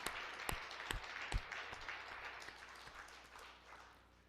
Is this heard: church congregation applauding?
yes